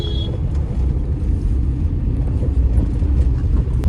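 Tata Nano small car cruising slowly in second gear at low speed, a steady low engine drone and road rumble filling the cabin continuously with no talk.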